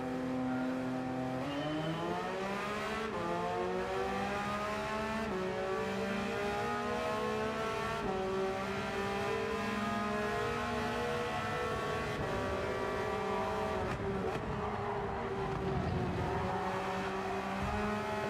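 A Porsche racing engine in Gran Turismo 7 roars continuously close up, its pitch climbing and dropping through repeated gear shifts as the car is pushed around a track, with no voices.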